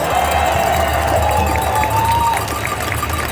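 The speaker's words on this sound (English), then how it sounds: "Give yourselves a big round of applause." Large outdoor freedom rally crowd of thousands in Perth cheers and applauds, a loud continuous wash of clapping and voices with a rising shout carrying over the roar.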